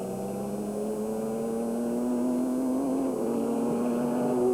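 Race cars circling the track at night during the 2001 24 Hours of Le Mans, with a steady engine drone holding one pitch then shifting slightly lower, continuous and moderately loud with no voices.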